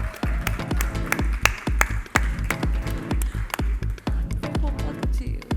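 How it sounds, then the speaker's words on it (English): Audience applause at the IAA Leadership Awards 2024 ceremony, a continuous run of clapping with some sharp individual claps standing out close by. "join me in welcoming him with a huge round of applause"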